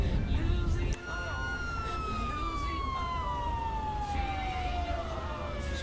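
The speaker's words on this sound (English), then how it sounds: "Guys, let me just turn off the siren." A police car siren wails steadily in GTA V's LSPDFR police mod, a long descending tone carried over continuous engine and road noise, loud and close throughout.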